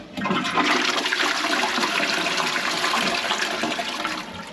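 A cleared, previously blocked toilet flushes in one strong, continuous rush of water, loud and close, filling the whole moment without any talk.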